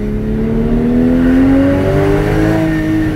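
A Porsche Cayman GTS engine revs up loudly, rising steadily in pitch as it echoes off a low wall, then holds a sustained, resonant tone close by with no voices.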